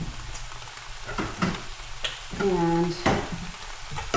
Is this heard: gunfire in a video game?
no